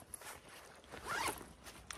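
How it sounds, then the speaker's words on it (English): A zipper closes a compartment on a Venture Pal 40L lightweight packable hiking backpack, a single quick close zip pull. "let's zip that one up"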